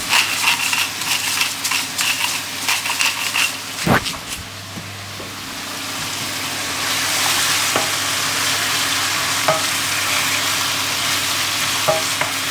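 Chicken, leek and mushroom pie filling seasoned with salt and pepper cooks in a pan, with a steady close sizzle and a few utensil clinks and scrapes early on, then a smoother continuous frying hiss, no talking.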